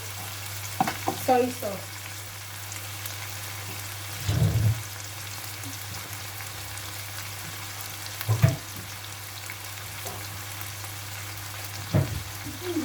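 Sardines fry with bottle gourd in a pan, a steady low sizzle broken by a few short bursts of stirring scrapes, while a voice speaks briefly near the start.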